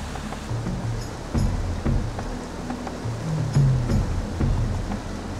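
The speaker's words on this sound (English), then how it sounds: "I followed the river upstream." A mountain river near the village of Machulu in Pakistan rushes steadily upstream along a trekking route, a dense, continuous roar of flowing water with no voices.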